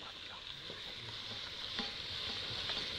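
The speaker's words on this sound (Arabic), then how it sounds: "نقلب البصل مع الثوم مع بعض كده اهو" Onion and garlic frying in a pan, stirred steadily, with a soft continuous sizzle and a few scraping taps of the spoon against the pan, close and fairly quiet, no talking.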